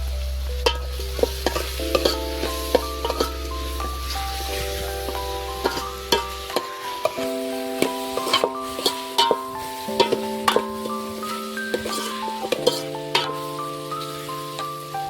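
A vegetable curry with turmeric fries in a pan while a spoon stirs it, giving a steady sizzle punctuated by regular clinks and scrapes over a sustained tonal background, with no speech.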